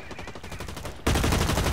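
Rapid automatic gunfire from hip firing in the Blacklight Retribution shooter game, a steady stream of shots that jumps sharply louder partway through and stays loud and dense to the end.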